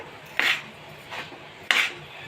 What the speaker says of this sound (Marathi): आता हे छान हलवून घ्यायचं आहे